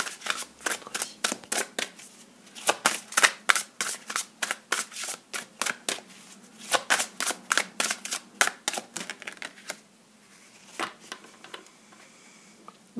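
Oracle cards shuffled by hand in quick, rhythmic bursts of crisp riffling slaps, close and clear, slowing to a few scattered flicks near the end, no talk.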